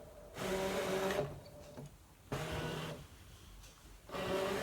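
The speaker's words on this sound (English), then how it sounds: "I'm just going to load it into the machine" A Brother ScanNCut SDX2200D cutting machine loading a mat holding three pieces of card, its motor whirring in three distinct bursts separated by short pauses, close and steady, without talk.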